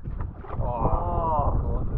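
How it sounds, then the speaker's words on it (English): Wind buffets the microphone while fishing from a boat, a loud rumbling gust through most of the moment, with a person's brief exclamation. "Sorry about the wind as well."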